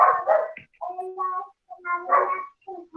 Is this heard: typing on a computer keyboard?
no